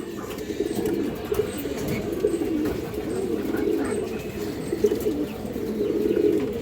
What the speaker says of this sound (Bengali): এই যে দেখেন কবুতর দেখেন, খুবই সুন্দর একটা পেয়ার